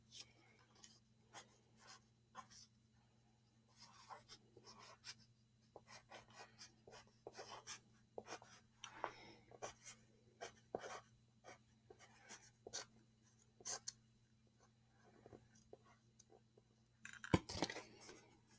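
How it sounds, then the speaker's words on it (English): Pen or pencil writing on a paper ticket, close and quiet: a series of short scratchy strokes in irregular bursts, with a slightly louder rustle near the end. "Now we're going to write round trip."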